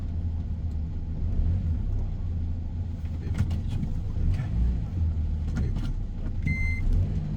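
A manual-transmission car reverses into a parking space at the end of a row. A steady low engine rumble runs throughout, with a short electronic beep near the end.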